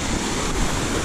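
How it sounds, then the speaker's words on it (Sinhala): A powerful stream of water rushes close by below a waterfall at Ohiya, a continuous loud churning roar filling the whole moment without any talk. "වතුර පාර මේ හරිය හොඳටම සැරයි."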